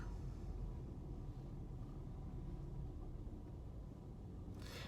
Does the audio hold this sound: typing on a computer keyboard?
no